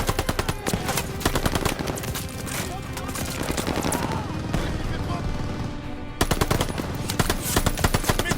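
Rapid machine gun fire in the Call of Duty Vanguard video game, loud dense bursts running almost without a break apart from a short lull, with voices talking over the shooting.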